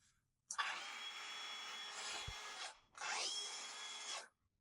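DeWalt cordless battery-powered parquet saw running unloaded, two close whirring bursts of about two seconds and 1.3 seconds with a brief dip between, each starting and stopping sharply.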